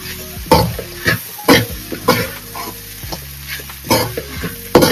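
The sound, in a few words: stirring Schezwan chicken noodles in a pan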